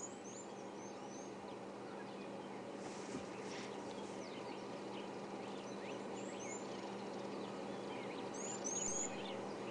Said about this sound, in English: you might also be able to hear a very high-pitched doo-doo-doo, little blue waxbills.